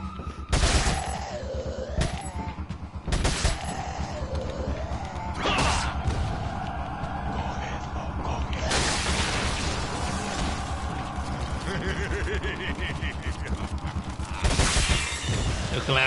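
SMG gunfire in Resident Evil 4 rattles in dense bursts among crashes and impacts, loud and busy throughout, with a voice talking over parts of it.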